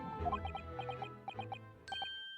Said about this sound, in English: Oh, bells.